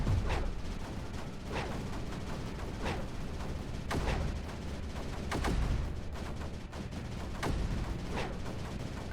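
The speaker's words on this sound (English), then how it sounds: "let's bring the mortars up and into range" Mortars fire again and again in the strategy video game Creeper World 4, sharp cracking blasts arriving every second or so over a steady rumbling game background, with no talk.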